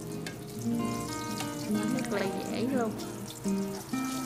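Eggplant slices in batter frying in a pan, a steady crackling sizzle running throughout beneath a woman's speech.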